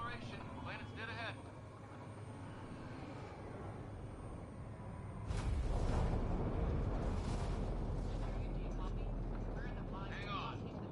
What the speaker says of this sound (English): Initiating atmospheric entry.